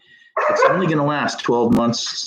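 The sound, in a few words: dog barking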